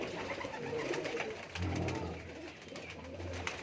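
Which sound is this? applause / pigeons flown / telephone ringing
pigeons flown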